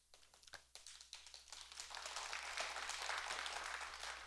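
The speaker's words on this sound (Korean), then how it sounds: "얘기가 재밌어서 박수를 치는 거예요" Sustained audience applause fills a Buddhist temple hall during a Sunday dharma talk, starting with a few scattered claps and swelling into steady, even clapping from a seated crowd.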